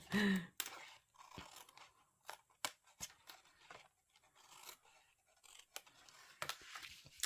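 Scissors trimming the corner of a papercraft treat box, a few sharp close snips and crisp paper crunches spaced out over otherwise quiet moments.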